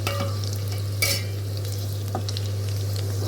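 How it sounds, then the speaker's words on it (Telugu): Spices crackle and sizzle in hot oil, a steady close frying hiss with a sharp pop or two and a low hum underneath. "ఇలా తాలింపు వేయగానే"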